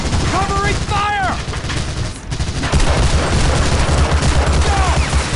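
Covering gunfire in the WWII shooter Medal of Honor: Allied Assault (2002): dense, continuous battlefield fire and booms fill the clip, with shouted voices over the din early on.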